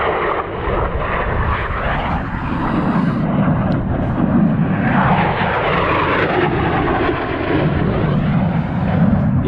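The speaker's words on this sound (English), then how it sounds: "Here comes a jet." Jet aircraft passing overhead above the Howgill Fells on an outdoor wild camp, a broad continuous roar filling the whole clip, loud and steady with a slow swell, no talking.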